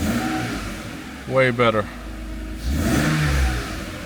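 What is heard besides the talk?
Mercedes R129 engine revving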